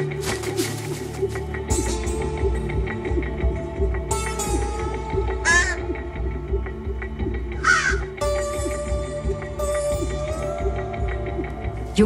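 Young crows caw repeatedly near the nest, harsh calls rising and overlapping over a steady, dense background of other bird calls and hum, loud and close throughout.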